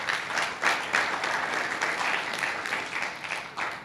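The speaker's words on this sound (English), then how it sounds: "deserves a big round of applause" Audience applause fills a lecture hall, a dense, steady wash of many hands clapping that stays loud from start to finish, with no talking over it.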